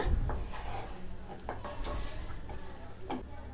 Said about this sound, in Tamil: எல்லாத்தையும் நல்லா கிளறி விட்டுக்கோங்க.